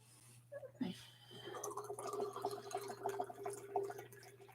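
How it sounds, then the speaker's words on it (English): Coffee poured from an office coffee pot into a cup, a soft liquid stream with faint trickling and small clinks, quiet and close over a low steady hum. "Just in time for me to pour another cup of coffee, too."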